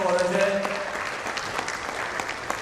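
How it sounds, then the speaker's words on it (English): Audience at a customer experience summit panel applauding a speaker, a steady wash of clapping from a moderate crowd with a voice talking over it at the start. "A big round of applause for Ajay"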